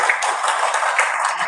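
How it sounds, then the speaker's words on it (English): Sustained applause from an audience at an award session, a dense and steady wash of many hands clapping with no breaks, moderately loud throughout. "So big round of applause for the award winners."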